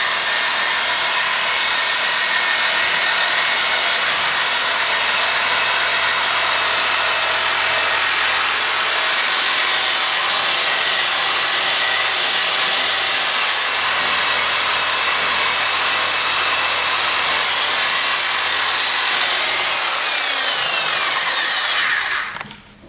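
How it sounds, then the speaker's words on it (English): Car headlights get hand-polished with a finishing polish, making a loud, close, continuous rubbing and swishing that runs steadily for over twenty seconds before stopping abruptly. "now I'm going to really put on this new finish to really polish these headlights up"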